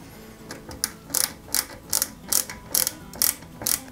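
A small screw is driven into the chassis of a Peugeot 205 GTI 1.9 model car, giving a series of crisp, rhythmic ratcheting clicks from the screwdriver, close and fairly quiet.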